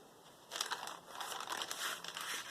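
A paper page in a junk journal is cut and crinkled, giving a burst of dry, crisp rustling and snipping that starts suddenly and continues in uneven close bursts.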